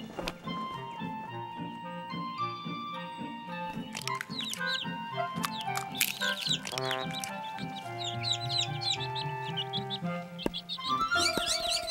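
Cartoon birds chirp and tweet in quick high bursts over a bright musical score in an animated Bible creation story, the calls growing busier toward the end with no talking.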